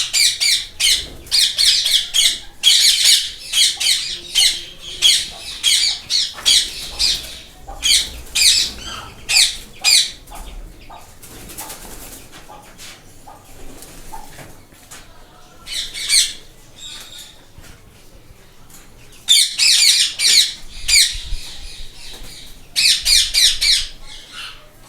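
Ringneck and alexandrine parrots squawk loudly in rows of breeding cages, with harsh repeated calls coming in dense bursts separated by quieter gaps, close and shrill throughout.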